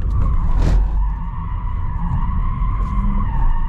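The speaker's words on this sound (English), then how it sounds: "Driving this is intense, but it clearly drifts, and it is possible." A Tesla Model S Plaid drifts with tires skidding, a steady loud screech holding near one pitch for several seconds, with a brief harsher burst near the start and low rumble underneath.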